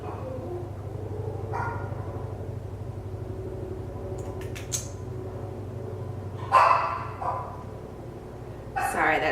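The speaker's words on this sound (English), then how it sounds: "that's my dog in the background" A pet dog barking in the background of a home, a few short sharp barks in bursts, with a louder pair near the end, heard under a person talking.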